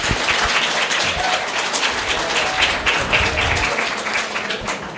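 Audience applause at a fan convention talk, dense and steady clapping from a crowd filling the room at close range, sustained throughout without speech.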